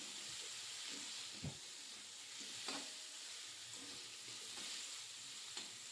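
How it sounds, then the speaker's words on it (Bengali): Garlic paste, ginger paste and slit green chillies frying in a pan are stirred, a steady low sizzle with a few soft scrapes of the spoon, fairly faint and without speech. "তারপর আবার নেড়ে চেড়ে নিচ্ছি।"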